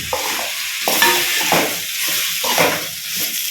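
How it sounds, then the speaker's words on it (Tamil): Eggplant pieces sautéing in hot oil with salt and tomato sizzle steadily up close, broken by repeated scraping stirs of a spoon against the pan. "அதுக்கு வச்சு கத்திரிக்காயை போட்டு உப்பு போட்டு வதக்கணும்."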